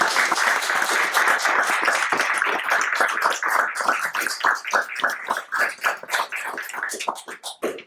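Audience applause after a lecture on Maoist revolutionary war: dense clapping at first, thinning into scattered individual claps toward the end.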